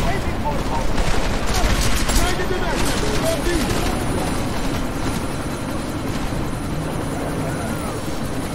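A helicopter and bursts of gunfire in the video game Deus Ex: Mankind Divided, with steady rotor roar, rapid crackling shots and intermittent voices talking over the combat.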